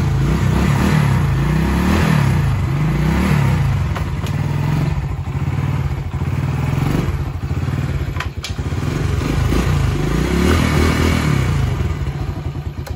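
A motorcycle engine idles steadily and smoothly with no misfire, a loud close continuous rumble that holds an even tone for the whole stretch.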